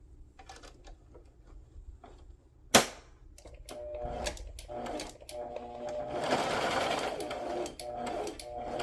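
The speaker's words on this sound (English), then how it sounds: "So I'm going to actually just sew these ends together." A sewing machine stitches together the ends of sari silk for handmade lace flowers, starting with a sharp knock and then running in short bursts before a longer steady whirring stretch, fairly close and with no talk.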